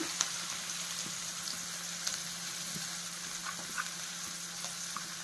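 Green chillies and finely chopped onions frying in a pan, a soft steady sizzle with occasional light spoon taps, quiet and close, with no talking.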